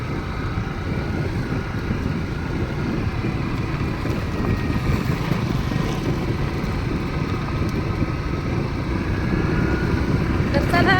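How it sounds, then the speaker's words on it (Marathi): Wind buffets the microphone while riding in a moving vehicle, producing a loud, steady, low roaring rumble that continues unbroken for the whole stretch. "वाऱ्याचा सगळा तुम्हाला आवाज येत असेल"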